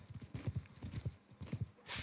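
A horse in the video game Bannerlord moves at a quick gait, its hooves clopping in rapid repeated clusters at a faint level, cut off by a short burst of hiss at the end.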